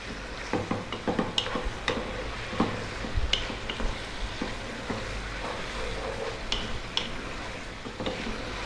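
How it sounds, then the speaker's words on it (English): Spoon stirring spices through kibe, Ethiopian spiced butter, in a pot: irregular scraping taps and soft clinks over a steady low sizzle of frying, moderately close, with no talking. "There's a whole lot of stirring that you have to do with this."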